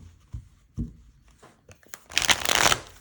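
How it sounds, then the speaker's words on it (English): Tarot cards being shuffled up close: a few soft taps and flicks, then a dense burst of riffling that builds and stops. "Let's see how she shuffles."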